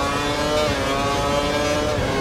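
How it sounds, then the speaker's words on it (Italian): Ferrari Formula 1 engine in the racing game F1 2012, a dense, continuous high-revving whine held steady and loud with no talking, set in a wet-tyre race at Melbourne. "Dai, il motore Ferrari"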